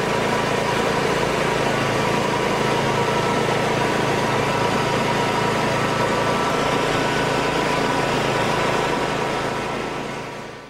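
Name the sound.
Aztec Ultra Grind propane concrete floor grinder running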